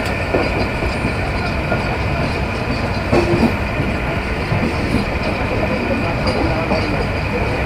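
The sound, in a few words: Banalata Express train running from Dhaka to Rajshahi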